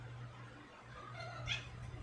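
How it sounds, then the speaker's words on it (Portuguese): A pet cat gives a single short meow partway through, fairly close, over a steady low hum in a quiet room. "Minha gatinha."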